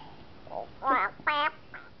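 A frog croaks in a short series of four tonal calls, the middle two louder and longer, against a quiet background.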